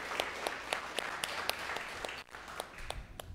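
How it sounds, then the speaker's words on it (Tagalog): A church congregation claps in steady applause, a dense patter of many hands at moderate distance that briefly dips and then continues, with no talk. "The best pong palakpak para kay Jesus."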